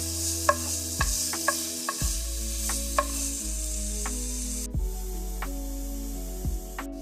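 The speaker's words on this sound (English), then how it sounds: "now I'm going to add in my onion. And you want to saute your onion for 5 to 7 minutes" Chopped onion sautéing over medium heat in a pan for butter beans, with a steady sizzle, a wash of steam hiss and repeated scraping stirs of a utensil against the pan.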